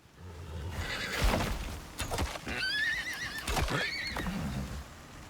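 A horse in the survival video game ICARUS whinnies loudly in wavering, high-pitched bursts, mixed with hoof thuds and clip-clop, with no talking over it.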